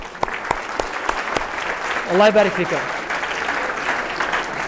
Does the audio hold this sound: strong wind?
no